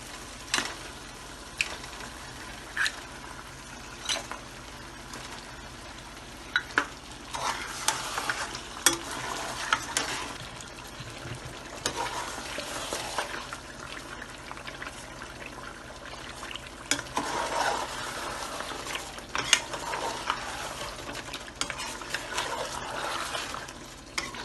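Beef trotters stirred and frying in roasted masala, a steady close sizzle with repeated scraping stirs and clinks throughout, no talking.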